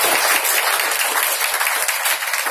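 Loud, dense applause from an audience at a motivational talk rolls on steadily for a couple of seconds, with no speech over it.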